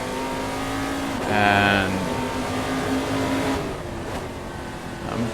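A race car in a racing video game on Sveg Raceway, its engine droning steadily with a brief surge of revving under braking and acceleration, loud and continuous, with a single spoken word.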